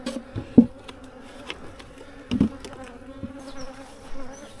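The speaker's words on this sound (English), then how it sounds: "The bees were getting angry with everyone" Bees buzz around opened beehives, a steady droning hum with individual insects passing close and loud at moments, punctuated by a few dull knocks.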